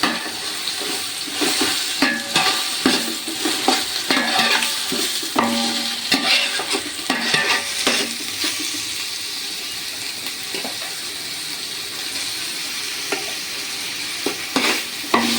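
Ginger-garlic masala is stirred in a pot for one-pot village-style chicken biryani. Scraping strokes repeat over steady sizzling and frying, close and fairly loud, with no talking.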